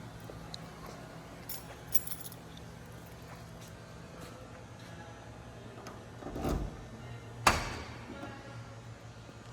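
Car keys jangle in short metallic bursts at the trunk of a 1968 Pontiac GTO, followed by louder clunks and a thud as the trunk lid is released and opened, fairly close over quiet room noise.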